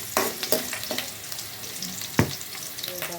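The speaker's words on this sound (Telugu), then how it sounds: "ఉల్లిపాయలు వేసుకొని వేయించుకోవాలి." Thinly sliced onions sizzle and fry in a pan, a continuous crackling hiss broken by a few sharp stirring clicks and scrapes, close and moderately loud.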